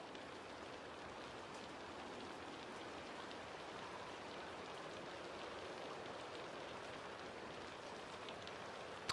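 Rain patters steadily in the video game Assassin's Creed Valhalla, a soft, even hiss of drops hitting surfaces that holds at a low, uniform level for the whole stretch with no speech.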